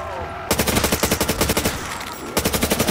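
Rapid automatic gunfire in a zombies video game: loud, close, evenly spaced bursts that run for about two seconds, then stop briefly before another burst begins.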